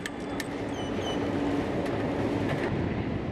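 A Kyiv metro subway train rumbles steadily throughout, a continuous loud mechanical roar with faint high squeals and a few brief clicks, no voices.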